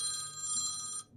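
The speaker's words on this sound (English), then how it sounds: "That was my phone." A phone rings nearby with a bright, steady electronic tone that holds for about a second and then cuts off abruptly, with no talking.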